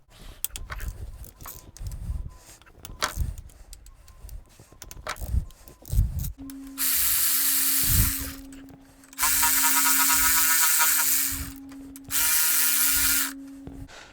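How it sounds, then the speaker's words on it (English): Bolts come off the transmission mount of a 1990s Toyota Tercel with a ratchet. Clicks and clanks of hand tools are followed by three loud, steady whirring bursts of a powered ratchet nearby. "We take off those 3 bolts off, 14 millimeter."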